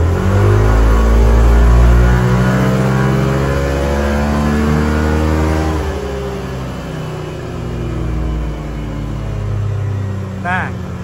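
A car engine revving on a DynoTek MBRtech dynamometer drum, its harmonic tone rising and falling steadily at close range, with a voice speaking over it.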